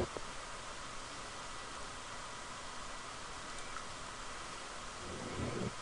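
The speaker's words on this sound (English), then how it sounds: "The rain is kind of lagging." Rain in Minecraft falls as a steady, even hiss, continuous throughout, with a faint low rumble creeping in near the end.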